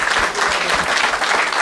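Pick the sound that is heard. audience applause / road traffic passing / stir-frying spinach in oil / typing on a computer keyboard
audience applause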